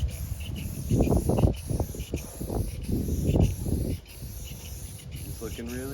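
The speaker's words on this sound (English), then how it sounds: "And I'm just spray painting." Several short bursts of spray paint hiss close by in an uneven rhythm, with quiet pauses between them, as a Harley motorcycle fuel tank is painted.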